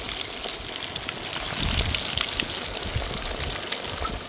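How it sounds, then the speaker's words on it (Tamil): Paarai fish sizzling and crackling steadily in a full pan of hot oil, a dense continuous fry noise with small popping bursts, close and fairly loud, with no talking. "இப்போ மீனை போட்டு பொரிச்சு எடுக்க போகிறோம்"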